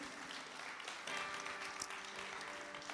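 A church congregation applauds the mothers during a Sunday service, with scattered clapping that swells slightly partway through, steady and moderately distant in a large room.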